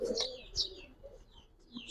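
Silver Giribaz pigeons in a loft giving a few soft coos and chirps, close but fairly quiet, with short calls spaced apart and no talk.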